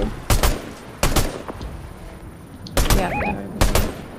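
Gunfire in Fortnite during a squads match, heard as several sharp, loud bursts spaced apart over a steady background, with a short spoken word in between.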